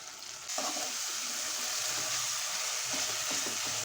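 Tomato masala rice with potato and brinjal sizzles softly in a pot as a spoon stirs through it, a steady frying hiss with a few scraping strokes toward the end; quiet, no talking.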